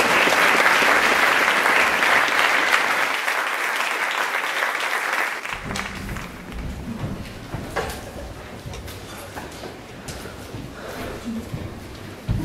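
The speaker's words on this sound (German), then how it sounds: "Ein letzter Applaus." Audience applause at a 12th-grade cultural evening in a Leipzig gymnasium, loud dense clapping for about five seconds that drops off sharply, followed by scattered stage noises and quieter room sounds.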